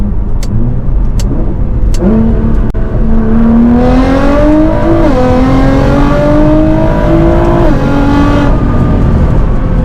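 A Nissan GT-R R35 engine climbs steadily in pitch, shifting gears several times as it accelerates hard, a strong continuous roar close by.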